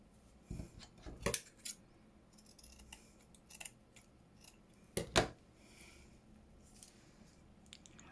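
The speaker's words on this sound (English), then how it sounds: "Let's cut some of this." Scissors snip through paper while tags are made for a junk journal, a few separate cuts at close range, a pair near the start and a louder double snip later, with quiet handling in between.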